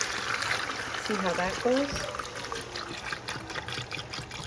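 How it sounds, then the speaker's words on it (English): About a gallon of water is poured into a pot of green pozole broth, making a steady splashing trickle while someone talks over it. "so now we're going to add our water"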